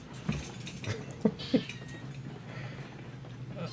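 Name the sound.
cat meowing in the video game Railroads Online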